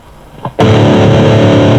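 Electric guitar through an overdriven amp with a clean boost pedal blasts in with a thick, heavily overdriven chord after a brief quiet pick noise, sustaining loud and saturated.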